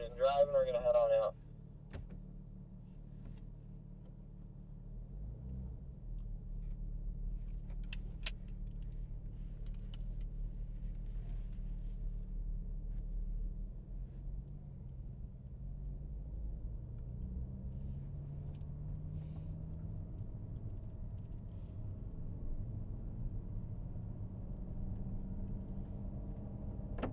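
A BMW M4 pulling out and driving off, a low steady engine rumble from inside the car rising gently as it gets moving, with a brief burst of speech at the start and quiet cabin hum after.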